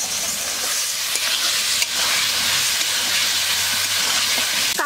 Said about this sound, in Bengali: ওই ফোড়নের মধ্যে কচুটাকে দিয়ে দিচ্ছি। এটাকে এখন আমি সুন্দর করে কষিয়ে নেব।